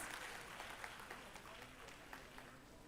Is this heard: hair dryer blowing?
no